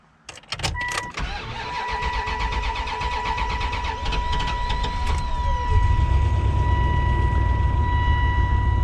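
A car with 57,000 miles cranks with a few quick clicks and whirs, catches, and settles into a loud, steady idle close by.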